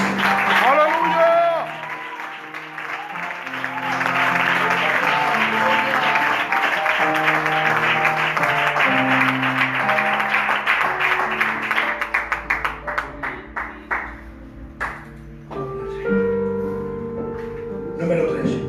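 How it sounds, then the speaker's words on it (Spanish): Church congregation applauding, a broad steady clatter of hands running beneath loud voices and tonal singing or music, then thinning into scattered claps near the end. "vamos a darle un fuerte aplauso al sacrificio de Cristo"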